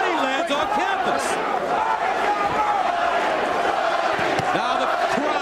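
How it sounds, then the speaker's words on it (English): Boxing arena crowd roaring behind John Duddy in a middleweight bout against Luis Ramon Campas, a loud, dense wall of shouts and cheers with individual voices rising throughout, continuous and close. "Now the crowd trying to get behind John Duddy"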